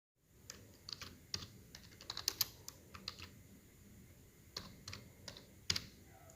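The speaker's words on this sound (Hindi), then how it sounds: "जैसे अभी हम इसमें टाइप किए" Keyboard typing in Microsoft Word, heard alone as scattered, uneven bursts of crisp key clicks with short pauses and a few louder taps at close range.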